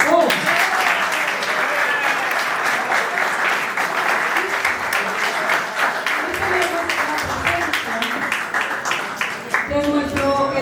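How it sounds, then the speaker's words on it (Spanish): An audience in a school event hall applauds a visiting guest with steady, sustained clapping from many hands, dense and even for the whole stretch, with a few faint voices near the end. "Para que la aplaudan"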